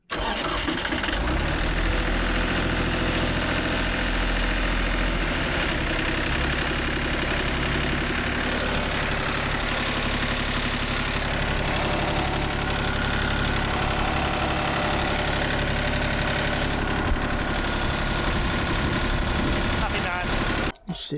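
An engine with a foot clutch, used for pond filter-bed removal work, cranks and catches, then runs at a loud, steady idle that drones continuously for about twenty seconds before cutting off abruptly.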